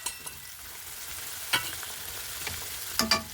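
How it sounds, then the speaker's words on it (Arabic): Onions frying in hot oil for Egyptian koshari, a steady soft sizzle with a few sharper crackles and stirring clinks close by, no voices. "اهو يا حبايبي البصل بيخروش ازاي اهو"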